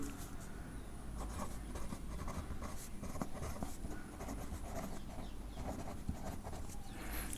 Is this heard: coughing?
no